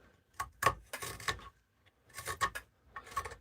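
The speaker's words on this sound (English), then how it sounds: "I'm getting a bit of chatter there, you see. Going a funny way against the grain." A knife carving an ash wood bowl against the grain, giving short chattering rasps in bursts separated by brief pauses, close and fairly quiet, with no voices.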